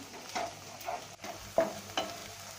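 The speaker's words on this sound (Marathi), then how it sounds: "लाल मिरची पावडर ती सुद्धा घालायची आपल्याला हळद पुन्हा एकदा परतून घ्यायचं आपल्याला" Red chilli powder and turmeric being stirred and sautéed in a hot pan for a Rajasthani stuffed chilli pakora filling, with repeated scraping strokes over a steady soft sizzle, close and moderate, no talk.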